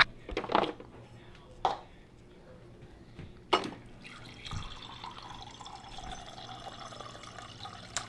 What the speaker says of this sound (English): Let's get a glass of water.